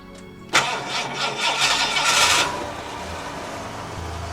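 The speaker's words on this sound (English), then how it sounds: "Let's start to warm up the engine." An overland vehicle's engine in Argentina cranks and catches with a sharp start, revs briefly, then settles into a steady, close idle while warming up; no one speaks.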